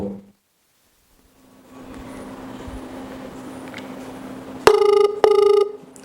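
Outgoing telephone call ringback tone: after a brief hum, two loud, clear ring bursts sound close, each lasting under a second with a short pause between them.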